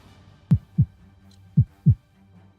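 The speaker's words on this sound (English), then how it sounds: "You don't hear the heartbeat?" A slow heartbeat sound effect thumps in two paired beats, deep and close, low muffled thuds with a faint hum between them and no voices.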